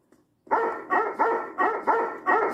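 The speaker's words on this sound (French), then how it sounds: "votre chien me fait peur, éloignez-le." A police dog barks loudly and close in a rapid series of six sharp, evenly spaced barks after a brief quiet moment.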